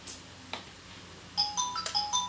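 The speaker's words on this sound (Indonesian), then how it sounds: "HP bunyi." A mobile phone rings with a bright electronic ringtone melody of repeated short tones, loud and close, following a couple of soft clicks, with no talking.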